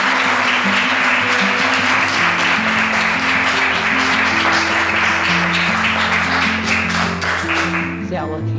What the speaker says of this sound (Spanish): Los invito a recibirla con un fuerte aplauso.